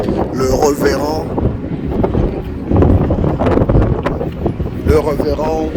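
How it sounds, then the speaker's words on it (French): Wind gusting outdoors at a prophet's grave site, a steady roaring rush buffeting the microphone while someone speaks over it. "Il y a le vent ici"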